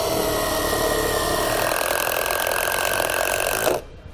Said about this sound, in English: we'll take the hex head self-tapping screws. We're going to run up into the holes here to keep our rod secure